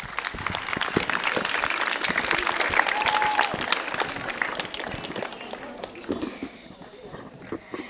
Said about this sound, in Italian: Facciamo un applauso di incoraggiamento.